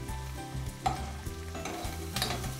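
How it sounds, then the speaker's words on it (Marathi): Mustard seeds, cumin, curry leaves and red chillies crackle and sizzle in hot oil for a tempering while dal fry is cooked, a continuous frying hiss with small pops, heard alone under a steady background hum. "छान अशी राई तडतडली"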